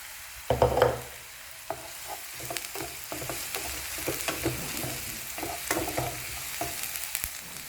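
Garlic fries in a pan for Assamese pork with bamboo shoot, with a quiet, close sizzle punctuated by repeated clinks and scrapes of a stirring spoon.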